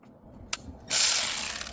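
Ratchet tightening bolts on the water pump of a 2015 Ford F150 3.5L, where a single click is followed by a loud, fast, continuous ratcheting burst up close.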